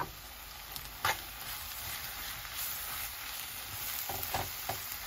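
Onion, dried fish, curry leaves and plenty of grated coconut sautéing in a pan give off a steady, close frying hiss, broken by a few spatula scrapes and stirs.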